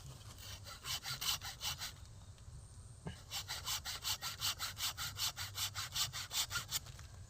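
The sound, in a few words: sawing branches of a jujube tree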